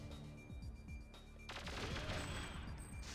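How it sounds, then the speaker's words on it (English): Explosion effects in an N64 video game: rapid popping gunfire-like bursts, then a big crackling blast that rolls into sustained booming and rumble, over a steady game soundtrack tone. "Nice explosion effects."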